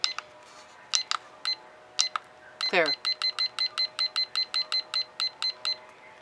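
A kitchen timer being set gives a run of short electronic beeps, scattered at first and then a steady, evenly spaced series of about a dozen quick tones, close and clear, with a brief spoken word among them.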